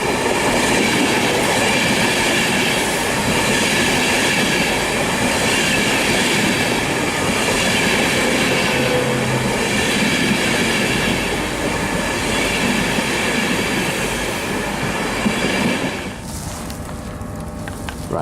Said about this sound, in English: Comes our train. It's running 5 minutes late.